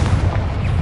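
Confringo spell explosion in the Hogwarts Legacy game, a loud, dense booming rumble that fills the whole short moment without a break.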